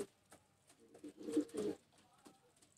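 A pigeon, a Bataira-cross bird kept on a rooftop loft, gives a short, soft, close cooing phrase of a few low pulses, with faint background noise around it.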